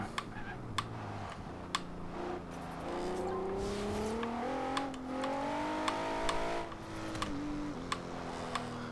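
A 2014 Maserati Ghibli S engine accelerating in Forza Horizon 2, revs climbing through the gears in rising sweeps, with sharp clicking ticks scattered over it and no voices.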